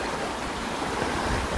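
A river beside ghost-town ruins rushes steadily, a broad, unbroken wash of flowing water with no pauses or other sounds.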